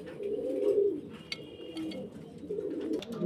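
A pair of Roman pigeons coo in soft, low, rolling bursts close by, with a few faint higher chirps in the quiet background.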